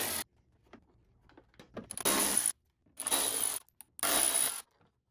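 Ratchet backing out T20 bolts on a BMW 135i E82 with N54 engine: three quick bursts of bright clicking, each about half a second, with small taps and handling noises between them.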